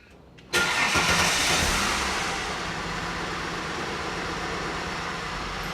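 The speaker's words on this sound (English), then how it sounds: "run the engine for another 5 or 10 seconds or so, turn it off" A car engine cranks and catches after an oil and filter change, then runs steadily at a loud, close idle that settles slightly lower after the first couple of seconds.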